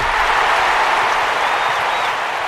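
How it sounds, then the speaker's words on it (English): Steady, loud applause from a large stadium crowd in an Olympic athletics video game, a continuous wash of clapping that fills the whole moment with no voices over it. "Well, the crowd will react to that quite rightly."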